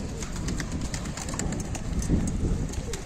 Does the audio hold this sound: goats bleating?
no